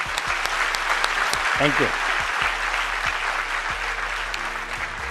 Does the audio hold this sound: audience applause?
yes